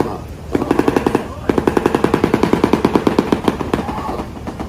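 A shoebill clattering its bill, a rapid machine-gun-like rattle in two loud bursts of evenly spaced sharp knocks, close and with no talk.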